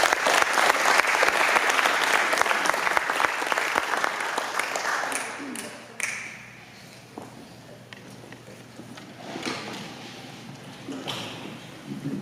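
Audience applause at a civic club meeting with a county commissioner, strong and dense for about five seconds, then thinning into scattered claps and shuffling footsteps, with occasional faint voices.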